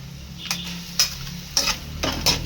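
Vegetable chow mein noodles tossed and stirred in a hot pan, with a light sizzle and four sharp scraping strokes of a utensil at regular intervals.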